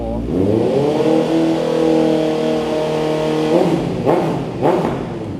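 A 2022 Honda CBR650R motorcycle with a slip-on aftermarket exhaust idles with a steady, smooth hum, then gets two sharp throttle blips near the end, close and loud.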